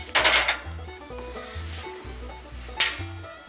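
Butter sizzling on a Blackstone griddle beside cooked white rice, a low sizzle with a brief loud metallic scrape at the start and another near the end, no voices.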